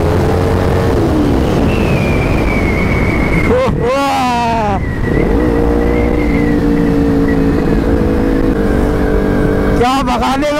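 Bajaj Pulsar NS and Pulsar 220 motorcycles cruising on a highway, with a steady engine drone under heavy wind rush. Another vehicle whooshes past around the middle, and a second rush builds near the end.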